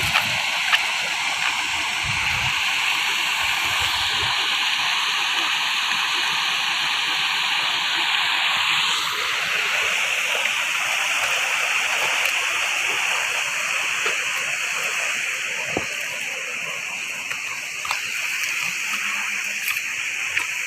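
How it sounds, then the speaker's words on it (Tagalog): A deep river flows steadily, with a continuous broadband rush of moving water that stays at an even loudness throughout, with no voices heard. "Ang ilog sa amin na napakalalim."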